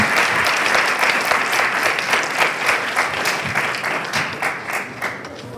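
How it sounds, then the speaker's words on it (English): An audience at a university case competition applauds a team, with steady sustained clapping from a sizable crowd in a room, loud and continuous and slowly easing toward the end. "let's have a round of applause for our team"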